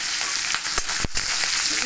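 Large chunks of capsicum frying with chicken over a high gas flame, a loud dense sizzle broken by a few sharp spatula clacks close by.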